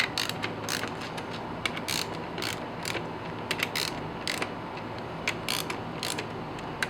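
Ratchet snugging bolts on a BMW M54B25 engine during a rebuild: rapid clicking pawl strokes in uneven bursts, close and fairly quiet.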